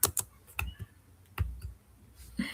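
Python code is typed on a computer keyboard: sparse, crisp keystroke clicks close by, in short irregular bursts with pauses between them.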